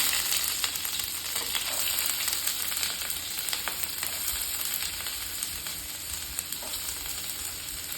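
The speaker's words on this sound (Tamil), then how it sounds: "கடுகு நல்லா உங்களுக்கு முறிஞ்சு வரும்போது ஆனியன் போட்டுக்கோங்க" Onions frying in hot oil with crackling mustard seeds, cooked for a bitter gourd stir-fry: a loud, continuous close sizzle with scattered pops and spits throughout, no voices.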